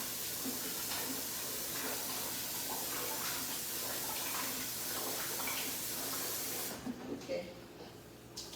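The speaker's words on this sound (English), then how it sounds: "I'm washing the rice." Rice is washed in water while cooking palm oil soup, a soft continuous hiss of running, splashing water that fills most of the stretch before cutting off near the end, fairly faint with no voices.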